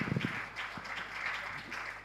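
Audience applause at a policy conference on anticorruption in Nigeria, a moderate, fairly soft wash of clapping across the room lasting about two seconds, heard without speech over it.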